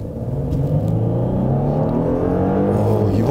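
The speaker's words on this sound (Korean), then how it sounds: "다시 한번 스포츠 모드에서 급가속을 한번 해보면" Genesis G80 3.5 turbo AWD accelerating hard in sport mode, a loud rising engine drone with climbing harmonics, heard from the cabin, then a quick shift near the end.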